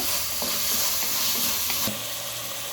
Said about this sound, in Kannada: ಟೊಮೆಟೊ ನೀರಾಗೋ ತನಕ ಹೀಗೆ ಹುರಿತಾ ಇರಬೇಕು